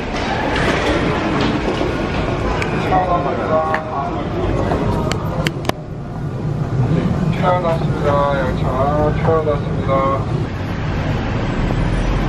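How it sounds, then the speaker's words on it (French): Seoul metro train rumbling into a station, a loud sustained roar with rising and falling whine and a sharp clank midway, while someone speaks over it. "ouais c'est le métro."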